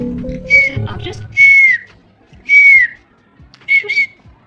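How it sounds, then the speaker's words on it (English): Whistling sounds made while speaking, caused by an anterior open bite where the front teeth don't meet. Four short, bright whistled bursts come in turn, each about half a second, after an opening stretch of low, muffled voice. "The whistling sound when she speaks is due to an interior open bite."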